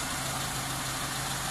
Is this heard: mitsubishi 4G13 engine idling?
yes